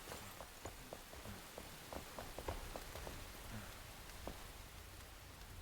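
Steady rain falls in the video game Enshrouded, a soft continuous hiss broken by scattered droplet taps. It is even and fairly quiet throughout, with no voices.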